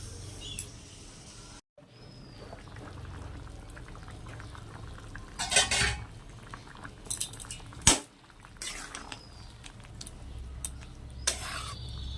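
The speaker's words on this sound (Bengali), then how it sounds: "দেখো আমার জল দেওয়ার পর ঝোলটা ফুটে উঠেছে" Bengali vegetable broth with bitter gourd and eggplant simmering in a pot after water is added, a low steady bubbling close by, broken by clinks of a metal utensil and pot scrapes, with no talking.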